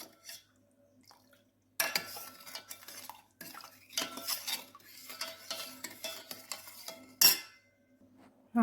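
Spoon stirring lemon sharbat in a glass or vessel, giving bursts of clinking and swirling that start after a quiet opening, with a sharp clink near the end.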